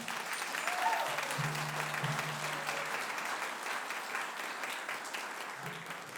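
An audience at a spring school band concert applauds the student musicians with sustained, even clapping, moderately distant and soft, with a faint murmur of voices mixed in.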